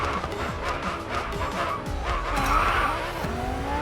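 A car drifting through corners in the Racing Master video game, with a steady engine roar and repeated tire squeals and skids sliding up and down in pitch, loud and close.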